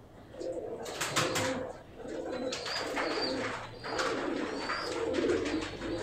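Teddy pigeons kept as a hobby coo in steady, low, throaty phrases that repeat close by, with a faint chirp or two over a continuous background.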